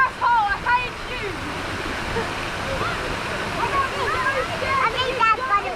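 Waterfall in a gorge pours steadily in a constant broadband rush, with excited voices shouting and talking over it nearby.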